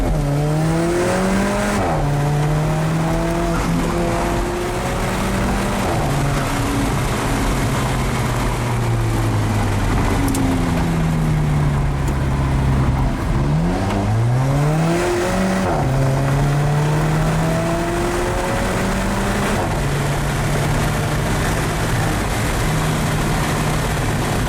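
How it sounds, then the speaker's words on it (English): Alfa Romeo 4C turbocharged engine heard from inside while driving, a steady loud drone with rising and falling engine pitch through gear changes and turbo whine, no talk over it. "Let me just say, you can hear the turbo in real life."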